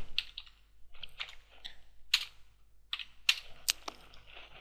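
Typing on a computer keyboard while entering grades into a spreadsheet, a run of crisp irregular key clicks at close range with short pauses between bursts, no speech.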